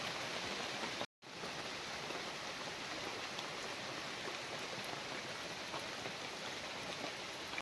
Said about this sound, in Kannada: ತಿರ್ಗಾ ಮಳೆ ಸ್ಟಾರ್ಟ್ ಆಯಿತು